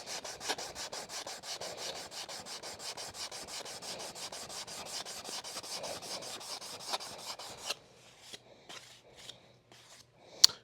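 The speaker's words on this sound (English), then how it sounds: "I need to sand a little bit more right there." Hand sanding a wooden brace on a guitar top: quick, regular rasping back-and-forth strokes for about eight seconds, fairly close and quiet, then a few scattered scrapes and taps after the rhythm stops.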